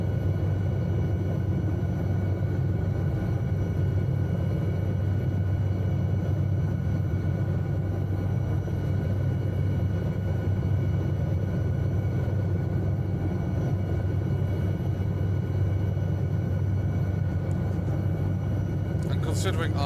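A SA315B Lama light helicopter hovers in Microsoft Flight Simulator 2020, giving a steady, dense low rotor and engine rumble that holds constant throughout, with no break or change in intensity.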